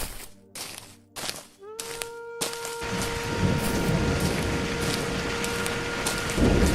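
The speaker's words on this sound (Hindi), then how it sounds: "उसी दिन बहुत तेज बारिश होने लगती है।" Heavy rain pours down in a dense, constant hiss that rises and holds after a few opening thumps and a short tonal sweep, loud and close, with no talking.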